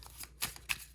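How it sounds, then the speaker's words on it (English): A French tarot deck from 1870 being shuffled by hand, two quick riffling bursts of card flutter, close and clear, with no talking. "So I'm going to shuffle the cards"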